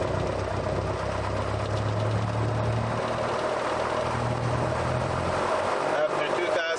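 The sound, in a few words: Musketeer aircraft engine run-up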